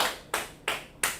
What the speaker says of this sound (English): I get a preaching officer hand clap